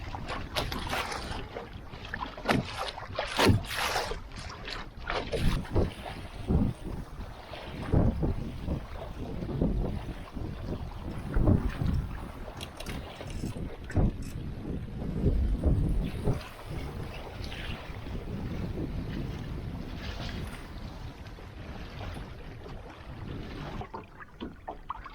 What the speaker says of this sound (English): we did have a healthy headwind for most of the journey